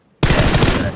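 A sharp burst of rapid automatic gunfire in PUBG Mobile starts abruptly, a loud close-up stream of shots lasting under a second.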